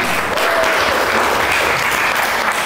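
Classroom applause from students during a lesson, a dense, steady wash of many hands clapping at even loudness throughout, with no talk over it.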